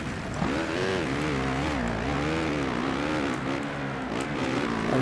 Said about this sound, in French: La moto marche bien, on peut pas dire que c'est de la faute de la moto.